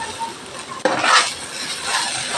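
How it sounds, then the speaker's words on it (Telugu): Okra (bendakaya) hits hot oil in a pan and starts frying, a sudden loud sizzle that settles into a steady crackling hiss with some stirring, close and without speech. "బెండకాయ ఫ్రై చేస్తున్నాను."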